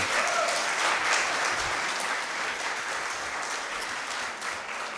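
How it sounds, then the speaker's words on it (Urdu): An audience applauds at a book launch in a hall, a dense, even sheet of clapping that holds steady throughout with little variation. "آپ سے میری درخواست ہے، پلیز تالیاں بجائیے۔"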